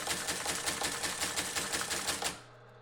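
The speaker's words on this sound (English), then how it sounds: "I have the teletype turned on, and these characters are just from when I first plug everything in." Teletype printer clattering out characters on power-up, a steady rapid mechanical chatter of typebars striking paper, close and loud, then cutting off abruptly near the end leaving a low motor hum.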